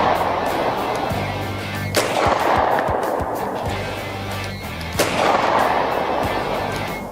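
Two loud, sharp reports from a Ruger LCR snub-nose revolver, the first near two seconds and the second near five, each a booming crack that rings out against steady background noise at an outdoor range.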